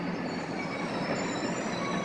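A MARC commuter train, number 848, pulls into Dorsey station, its steady rumble and wheel noise filling the scene up close for a couple of seconds, with a faint squeal of wheels on rails and no talk.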